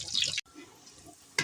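Water is poured off boiled elephant foot yam, a short splashing pour of liquid draining away, stopping briefly and then resuming with a louder burst at the end.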